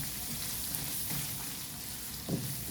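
Onion and garlic sizzle and fry steadily in a hot pan for spaghetti, a constant crackling hiss with a few louder pops, close and loud, with no talking.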